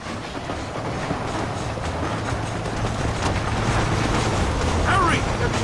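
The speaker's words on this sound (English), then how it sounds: "The train is getting away!" A steam-era train rumbles along the tracks in the video game Red Dead Redemption, a loud continuous clatter and roar that builds slightly toward the end.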